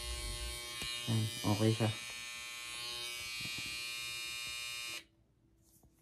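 A barber tests an electric hair clipper against skin: a steady, close, high-pitched buzz that runs continuously for about five seconds and then cuts off, with a short spoken remark over the hum.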